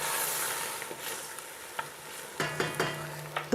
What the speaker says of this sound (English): Let me add some wine just to kind of loosen up all those little bits and pieces.